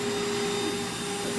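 A Rainbow vacuum cleaner runs loud and steady nearby while cleaning its own tool and hose, giving a continuous motor drone with a fixed whining tone.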